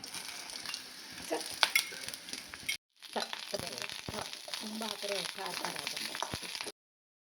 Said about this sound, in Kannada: ಇದನ್ನು ತುಪ್ಪ ಮತ್ತು ಜೀರಿಗೆ ಕಾಳು ಮೆಣಸು ಹಾಕಿ ಹುರಿಯೋದು